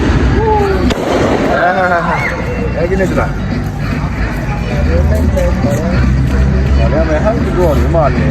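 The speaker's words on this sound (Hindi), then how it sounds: "तो ऐसे बस पटाखे शाखे चला।" Firecrackers go off during a nighttime New Year celebration, sharp bangs and crackles scattered among a lively crowd, with nearby people chatting and calling out over the noise throughout.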